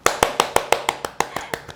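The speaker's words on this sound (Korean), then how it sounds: "박수!" A short round of hand clapping welcomes an aviation tourism student to an interview: about ten crisp, evenly spaced claps, close and fairly loud, that fade slightly toward the end.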